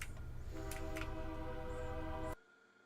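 A train in the factory-building game sounds its horn, a sustained multi-tone blast over a low rumble that cuts off abruptly before the end.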